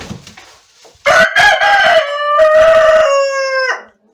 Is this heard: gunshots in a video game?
no